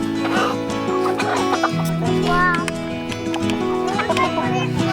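Four roosters cluck and call up close, their overlapping throaty notes forming a dense, continuous clamor, with a voice briefly heard among them.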